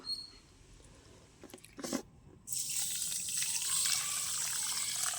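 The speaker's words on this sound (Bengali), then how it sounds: "চালটা আগে আমি ঝেড়ে পুছে নিয়েছি, এবার ভালো করে একটু ধুয়ে নেব" Gobindobhog rice being washed in water, a short splash and clink followed by a steady close stream of running water that fills the rest, with no talking.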